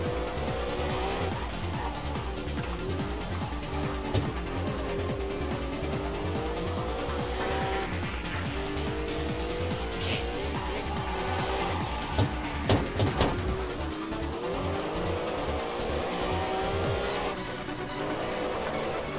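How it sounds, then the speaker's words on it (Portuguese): Lamborghini Miura tires squealing in a racing video game, a steady loud screech riding over the continuous roar of the engine, with brief sharper skid bursts near the end. "O carro canta muito pneu, velho."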